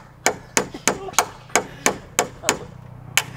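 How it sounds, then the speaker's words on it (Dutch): A hammer strikes repeatedly while a wooden hut is being built outdoors, with about eight sharp, loud, evenly spaced blows. "Ik begin te timmeren"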